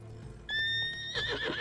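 A horse in Witcher 3: Blood and Wine lets out a loud, high whinny that rises sharply then breaks into a shaky, fluttering neigh, close and clear over low background hum.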